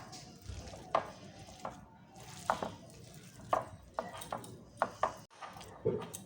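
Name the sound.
kneading jackfruit kofta mixture with rice flour by hand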